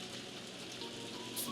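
Steady rain falls in the farming video game Story of Seasons, an even, close hiss of drops that continues without a break.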